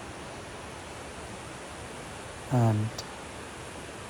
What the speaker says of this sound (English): surrounded by waters and energizing waterfalls